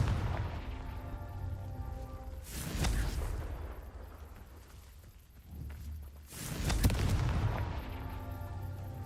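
Two bursts of the Confringo fire spell in the Hogwarts Legacy video game, each a loud whooshing blast with a rumbling tail, the pair spaced several seconds apart over a steady low game ambience.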